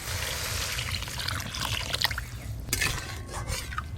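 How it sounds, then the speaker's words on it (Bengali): Water is poured into a pan of fish curry gravy made with pomfret and brinjal, giving a steady liquid rush and trickle with a few soft clinks of the pan partway through. "এবার পরিমাণ মতো জল দিয়ে দেবো।"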